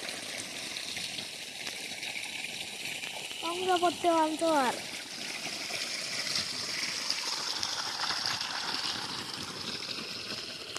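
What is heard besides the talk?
irrigation water flowing into wheat field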